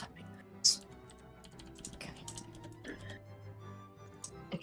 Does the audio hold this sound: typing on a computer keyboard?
yes